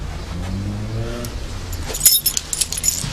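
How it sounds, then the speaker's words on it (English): Car keys jangle and clink sharply at close range for about a second, following a low, steady background hum. "The car keys."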